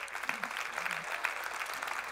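A church congregation breaks into sustained applause for an aging preacher just entering his eighties, the clapping steady and crowded across the whole stretch.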